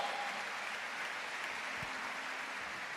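Steady applause from a church congregation, even and continuous, heard from a distance at moderate volume.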